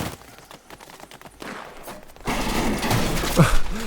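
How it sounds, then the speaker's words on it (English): A wooden table being smashed apart in Fortnite: a sudden loud burst of breaking, crashing game effects that cuts in after a quieter stretch and stays dense to the end, with a sharp crack near the close. "Destroy the table, but didn't destroy the ammo box."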